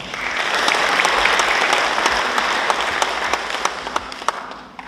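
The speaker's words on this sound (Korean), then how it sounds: "박수 한번 보내주시죠." Audience applause at a Korean academic conference on Gaya history: a dense burst of clapping from a seated crowd that holds steady, then thins into scattered individual claps before fading out.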